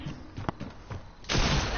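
Fortnite gunfire, with several quick sharp shots early and then a denser, louder burst of fire near the end, fast and punchy.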